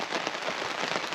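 Rain falls steadily at a forest campsite during a grouse hunting trip in Ontario, a dense close patter on surfaces with scattered brighter drop hits, continuous and alone.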